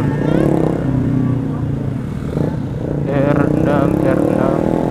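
A Yamaha R6 sport motorcycle passes on a Tangerang street, its engine a loud, close buzzing drone that holds steady and then rises in pitch as it revs, while someone talks excitedly over it.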